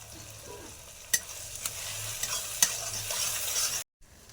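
Rohu fish cooks in a pan with salt, turmeric, chilli, cumin and coriander powder, giving a steady close sizzle with occasional scraping stirs, then cutting off abruptly near the end.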